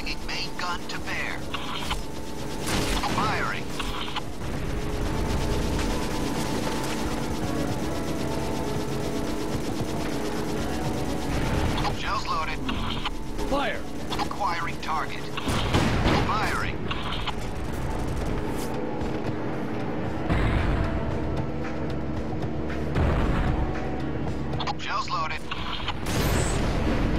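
A tank main gun in the Syphon Filter game, rumbling and clanking mechanically as it traverses, with heavy booming shots and radio-style voices talking over the din.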